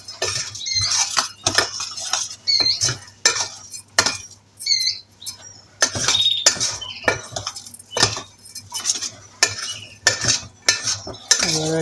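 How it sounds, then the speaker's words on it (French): Industrial pâté mixture for canary pinkies is stirred with a utensil in a bowl, giving repeated sharp scraping and clinking strokes in an irregular rhythm, close and fairly loud, with brief soft chirps between. "je mélange"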